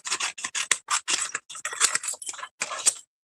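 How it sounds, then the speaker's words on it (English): Scissors snip through several cords at once during card making, a close series of quick crisp cuts in short irregular bursts, clear and alone with no talk. "pull all the cords down and try to cut these all at the same time"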